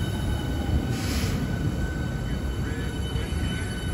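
A Southeastern Class 395 high-speed electric train pulls out of Ashford International station on a Margate service, a steady loud rolling rumble with faint wheel squeal, heard close from the platform.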